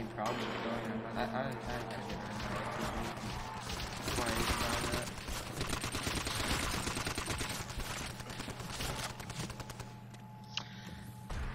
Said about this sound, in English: I'm shooting directly at them